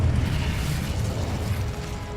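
Incendio fire spell cast in the game Hogwarts Legacy, a continuous low rumbling burst of flame that stays loud and steady for about two seconds, with no talking over it.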